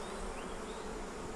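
Honey bees in an open beehive hum in a dense, continuous buzz that fills the space, close and steady with no talk.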